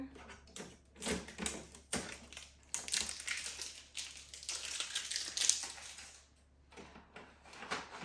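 Packing tape being pulled and peeled from inside an Epson ET-8550 printer, heard as faint, irregular crinkling and tearing rustles with small plastic clicks and taps, close by but quiet, with brief gaps.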